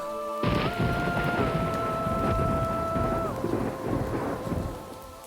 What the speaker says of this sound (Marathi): पाऊस तर थांबेनाच पुरता भिजलोय